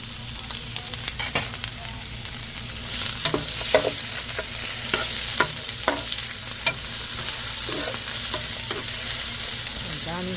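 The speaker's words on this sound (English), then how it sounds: "Oh boy, that's a lot of onion. My tofu, they still cooking." Tofu and onions fry in a pan, a steady soft sizzle under scattered clicks and scrapes of stirring, with no voices.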